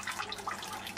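Water from an aquaponics siphon flush running as a thin post-flush drip flow, a soft continuous trickle and splash heard close and steady for the whole moment with no talk.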